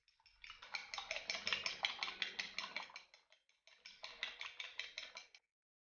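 Milk and sugar being stirred together for French toast: a utensil clinks quickly and evenly against the bowl in a long run, pauses briefly, then clinks again, close and clear with no talk.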